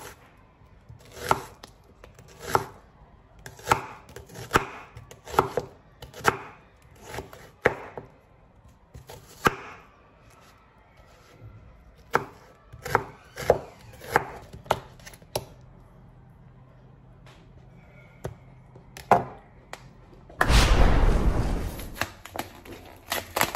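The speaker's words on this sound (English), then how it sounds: "this is me trying to cut some onions" Close, crisp knife strikes on a cutting board as onions are chopped: a long run of sharp, uneven chops with short pauses, ending in a brief loud rushing burst.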